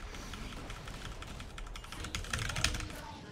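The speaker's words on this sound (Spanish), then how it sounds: "Perdón si suena muy duro los teclas, es que tengo uno a la parte del teclado" A computer keyboard clacking loudly and quickly during play of Honkai Impact 3rd, with dense, close keystrokes in a continuous run.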